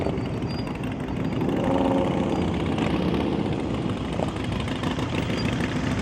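Motorcycle engine running at low speed during an advanced slow-speed riding practice session in Chicago, a steady mid-level drone with slight rises in revs throughout, heard alone without talk.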